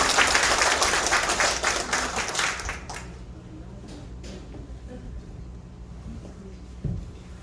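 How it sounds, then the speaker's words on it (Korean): An event audience applauds loudly at a city council member's public activity report, the clapping fading after about three seconds into quieter room noise with faint shuffling. "그러니까 박수 한번 보내시기 바랍니다."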